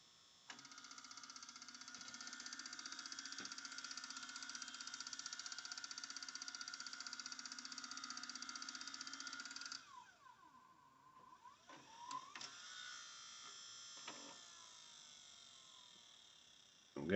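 VCR running a Reshow head cleaner tape, a steady close mechanical whir and hum for several seconds, then stopping with clicks and clunks of the transport mechanism.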